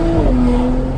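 Exhaust of a manual-transmission car accelerating, a loud close steady droning tone with a slightly falling pitch, heard alone for about a second.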